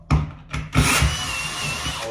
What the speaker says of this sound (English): Now I'm gonna take my drill and I'm going to drill through the tile with the tile bit.